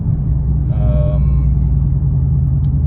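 Steady low engine rumble from a base-model Ford Mustang GT with a Wind Booster throttle module, held at cruise throttle while driving, close and continuous with a faint tonal whine riding over it briefly.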